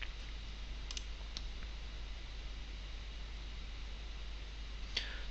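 Sparse mouse clicks on a desk while selecting an object in the Unity 3D editor, a few quick faint taps spread over a steady low hum and background hiss, no voices.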